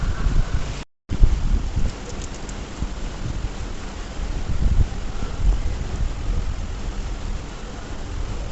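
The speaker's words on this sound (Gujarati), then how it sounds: "તો જોવો બહાર મસ્ત વરસાદ" Steady rain pours outside during a storm with lightning about, a dense, even hiss of drops on surfaces that drops out for a moment near the start and then continues unbroken.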